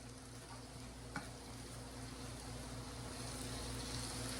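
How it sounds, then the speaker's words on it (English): Poke salad greens simmer in a pot, a steady close bubbling sizzle with a faint hum underneath and one brief clink, no speech. "This is the simmering."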